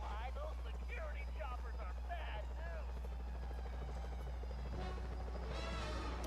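Helicopter in the video game Sly Cooper: Thieves in Time, a constant low rotor drone running throughout beneath someone talking, with game sounds and chirpy effects layered over it.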